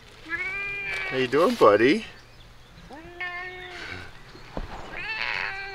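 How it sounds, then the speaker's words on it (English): A cat meows repeatedly near the camera on a cycling trip along the Congo Nile Trail in Rwanda, with several drawn-out, wavering meows. Someone speaks gently between and over the calls. "Look what I found, a ferocious jungle cat."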